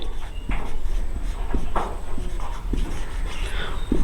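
A pen scratching out lines of a set-theory math solution on paper, soft repeated strokes and taps in an irregular rhythm against a faint steady room hum, with no talking.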